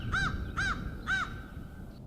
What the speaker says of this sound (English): The sounds of birds chirping in the morning